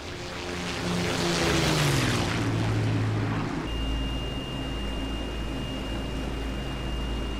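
Twin propeller engines of a de Havilland Mosquito FB VI in the DCS flight simulator drone steadily and loudly, their pitch sliding downward before settling into a rougher, lower hum with a thin high whine.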